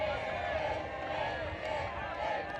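A pro-Canadian crowd at a 2012 World Ultimate Championships men's semifinal between the USA and Canada murmurs and cheers in a steady roar, with excited voices rising within the crowd noise.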